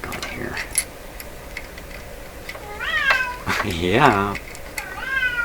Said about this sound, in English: Yes, my cat speaks English.